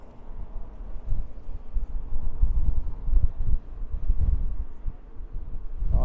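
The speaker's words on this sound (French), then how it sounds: "Alors il y a beaucoup de vent là." Strong gusting wind buffets the microphone outdoors in Bordeaux during a group electric unicycle ride, low rumbling surges rising and falling continuously, loud and close with no talk.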